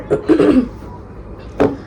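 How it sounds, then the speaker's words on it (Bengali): Two bursts of coughing, one short fit at the start and a single cough near the end, close and fairly loud with quiet between. "আমার বেশ কাশি হচ্ছে অনেকটাই বেশি"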